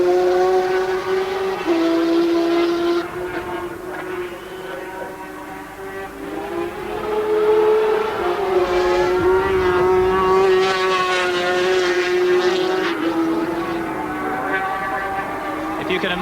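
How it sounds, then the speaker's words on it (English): A racing sidecar outfit, crewed by a driver and passenger, laps Donington circuit on the final lap of a sidecar challenge race in 1986, its engine a loud, steady high-pitched whine that rises and falls under continuous commentary. "Steve Webster hurtles round on this final lap of this Howard Printing Sidecar Challenge."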